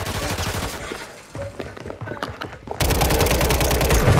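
Rapid automatic gunfire from the video game Call of Duty crackles in dense bursts, loud and close, easing into scattered shots mid-clip before erupting again into sustained heavy fire.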